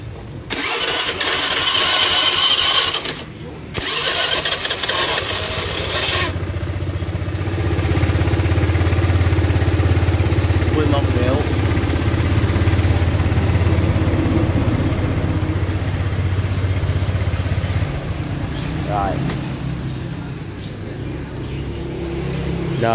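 A Honda Air Blade scooter engine cranks and catches, then settles into a steady, fairly loud idle that hums on for about twenty seconds with a brief revving swell, all without talk.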